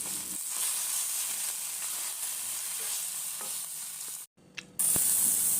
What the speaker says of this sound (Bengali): এরপর মাছগুলো আমি তেলে ভেজে নিচ্ছি